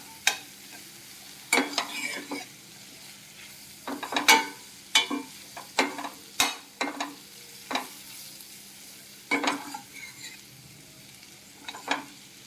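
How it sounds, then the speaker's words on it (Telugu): Broad bean pieces stir-fried in a pan, with repeated spatula scrapes and tosses in irregular bursts over a low, steady sizzle; close and moderately loud, with no talking. "మొత్తం అంతా ముక్కలకి బాగా పట్టేలా మిక్స్ చేసుకుంటూ బాగా ఫ్రై చేయాలి"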